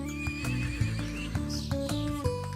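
A cartoon horse neighs over a background of music: a loud, wavering whinny near the start and hoof clip-clops sounding at regular intervals beneath, with no talking.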